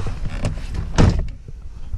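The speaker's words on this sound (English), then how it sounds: "once you shut the door shut the door" A car door is shut once, close up, giving a solid thunk in the middle of a quiet interior with light rustling before and after.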